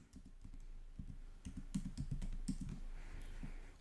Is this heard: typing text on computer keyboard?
yes